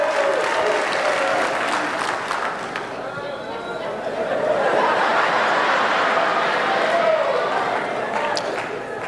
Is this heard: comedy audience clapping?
yes